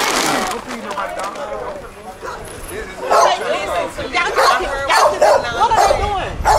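Several dogs bark and yip repeatedly in a tense outdoor scuffle, loud and close, with overlapping people talking and shouting throughout.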